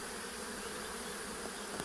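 A dense, steady buzzing of many worker honeybees, continuous and fairly close, with no talking.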